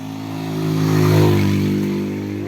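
A habal-habal single motorcycle taxi climbs a hill, its steady engine drone rising in loudness to a peak as it passes close by and then easing off slightly.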